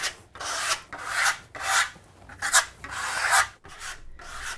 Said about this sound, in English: scraping it off at a high angle.